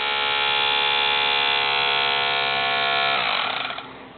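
A toy tug boat's small electric motor whines at a steady high pitch, close and loud for about three seconds, then winds down and fades as it is switched off.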